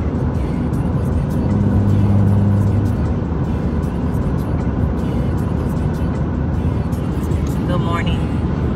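Riding inside a moving car on the road, with a steady loud rumble of engine and tyre noise filling the cabin throughout and a brief squeak near the end.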